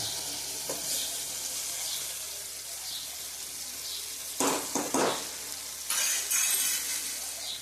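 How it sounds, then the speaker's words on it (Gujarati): Corn kernels go into a pan of okra frying in masala, setting off a steady close sizzle with a few louder crackling bursts as they are stirred in. "હવે આપણે પેલા દાણા નાખી દઈશું."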